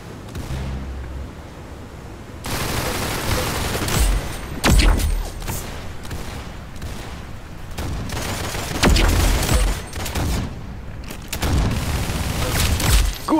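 Gunfire in the Roblox game Arsenal, loud bursts of rapid shots and booming blasts in several clusters separated by quieter stretches.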